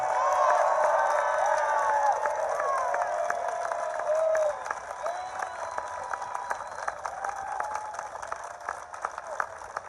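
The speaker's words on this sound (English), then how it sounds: "a quick round of applause in appreciation" An outdoor political rally crowd applauds first responders with a dense, steady wash of clapping and scattered cheers and whoops, moderately distant, the applause dropping somewhat in intensity midway as voices mingle in.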